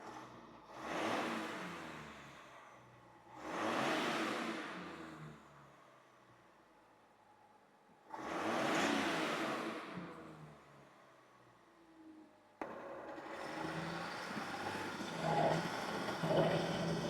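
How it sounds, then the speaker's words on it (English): A 2500HD pickup truck with a newly installed PPE intake revs three separate times, each a rising and falling swell with quiet idle between, followed by a rougher, steadier run at the end. "Give you guys a couple of revs."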